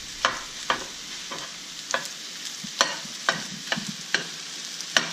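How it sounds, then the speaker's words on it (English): A metal spatula chops and scrapes through cold fried rice with chicken on a hot pan, sharp rhythmic clacks about twice a second over a soft sizzle. "So just cutting it up here with my metal spatula."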